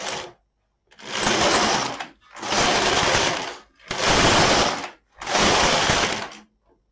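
LK150 knitting machine carriage pushed across four rows of two-colour knitting, each pass a loud close rasping sweep of about a second, separated by short silent pauses.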